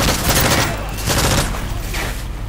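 Rapid bursts of gunfire from Call of Duty Modern Warfare 3 crackle and boom continuously, loud and dense, with no pause.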